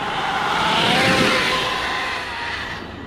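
An Arrma Kraton 8S RC car with a Dynamite 1200KV motor and 19-tooth pinion runs at full throttle, a loud, close electric whine with a sweeping pitch that peaks early then fades as it moves off.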